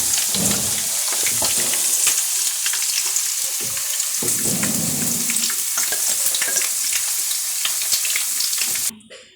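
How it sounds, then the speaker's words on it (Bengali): Fish frying in hot oil in a wok, a busy continuous sizzle with crackling spatters and occasional stirring scrapes, close and loud, fading out in the last moment. "এইভাবে আমি বাকি মাছগুলো ভেজে নেব।"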